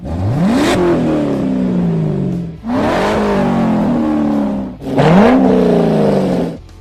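A C6 Corvette fitted with a Borla exhaust system revs hard three times, each loud burst climbing quickly then easing back down, close by with no talking.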